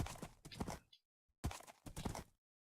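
Horse hooves clip-clop in Minecraft in two short clusters of brisk, close thuds separated by a brief silence.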